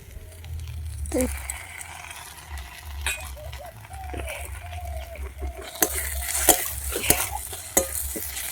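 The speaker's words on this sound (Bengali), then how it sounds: "এবারে এটাকে একটু ভালো করে কষিয়ে নেব" Desi chicken with dried and green chilli paste sizzling in a pan during village-style home cooking, stirred with a utensil that scrapes and taps the pan in scattered knocks over a steady low frying hiss.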